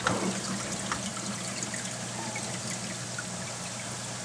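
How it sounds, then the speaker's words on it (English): Water keeps flowing down from a 90-gallon reef tank into a 30-gallon sump after the pump shuts off, a steady close trickling pour with a brief splashy burst at the start. "So as you can see now, water is continuing to flow in from the tank."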